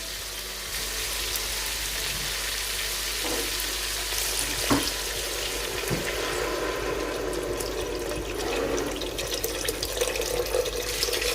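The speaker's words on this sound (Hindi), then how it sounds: "अब मैं इसमें ऐड करने लगा हूँ पानी।" Water poured into a pot for chana pulao, a steady rushing stream with sizzling from the hot pot beneath it, close and continuous with a few clinks along the way.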